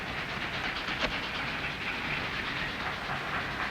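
A train passes nearby in a steady, continuous rumble with faint rolling clatter and hiss, loud and unbroken throughout with no voices.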